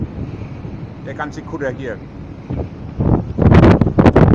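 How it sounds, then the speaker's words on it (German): Strong wind buffets the microphone on a fishing cutter off the island of Föhr, gusting harder toward the end as someone speaks briefly over the roar. "So ein starker Wind."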